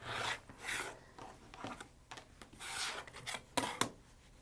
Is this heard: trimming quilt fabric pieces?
yes